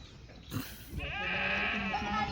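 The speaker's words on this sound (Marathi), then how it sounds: "हे बघा क्वालिटीच्या शेड्या मेंढ्या तुम्हाला खरेदी करायच्या असतील" Kathiawadi goats and sheep at a livestock market, with a clear, close bleat that rises and holds for about a second over low background noise.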